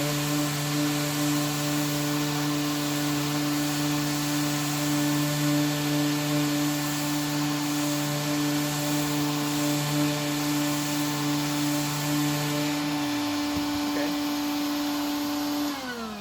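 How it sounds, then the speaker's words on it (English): Orbital sander with 80-grit paper hooked to a shop vacuum, running on wood as a steady, loud, droning whine with a constant hum, then spinning down near the end. "I'm going to go ahead and start this up. I've got it hooked up to my vac. And let's go ahead and do a little sanding"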